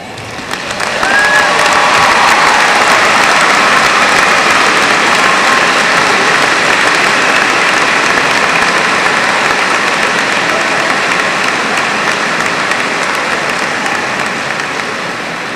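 An audience at a 2002 high school graduation ceremony breaks into loud, sustained applause. The dense, steady roar of clapping with some cheering fills the room continuously and stays strong to the end.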